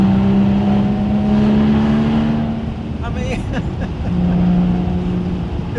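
A Porsche Boxster Spyder is driven through the Scottish Highlands. Its engine and exhaust make a steady, loud drone from inside the car, with the pitch rising and falling slightly as it pulls.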